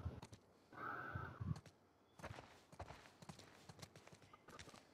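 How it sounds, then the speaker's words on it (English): Horse hooves clip-clop in the video game The Last of Us Part II, a quiet, irregular patter of steps at moderate distance, with a brief soft rumble and breathy snort early on. "Let's get back to the horses."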